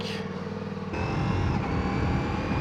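A Ducati Multistrada V4 Rally motorcycle cruises at highway speed, its engine drone buried in heavy, roaring wind rush that grows louder partway through, with no speech.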